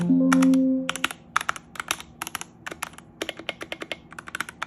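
Keys clack rapidly and close by on a Redragon Fizz mechanical keyboard, a steady run of crisp clicky strokes that follows a brief low hum at the start.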